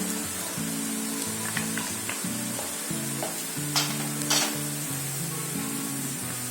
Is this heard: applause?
no